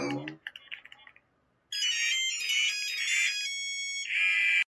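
A phone ringtone plays loudly and steadily in repeating electronic bursts, cutting off briefly and then resuming. Just before it there is a short spoken exclamation and some light clicking.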